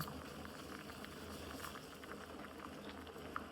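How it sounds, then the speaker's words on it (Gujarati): Tea simmers on the stove, a soft continuous bubbling and gentle popping of boiling liquid, quiet and close with no voices. "ચાને આપણે આ રીતના ગદાડવી પડશે"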